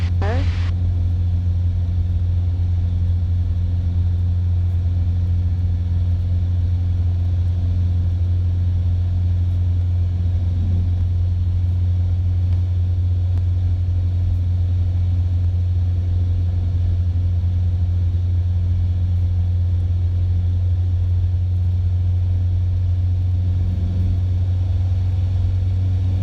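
An airplane engine drones steadily during an emergency procedures training flight, a loud, continuous low hum that holds through the whole stretch, with voices talking over it.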